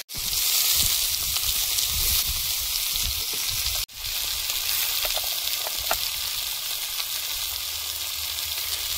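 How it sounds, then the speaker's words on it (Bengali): Potatoes for aloo bhaja fry in hot oil with a steady, dense sizzle and crackle that runs nearly the whole time, with one brief break partway through and occasional stirring pops. "আলু ভাজা বসিয়ে দেব।"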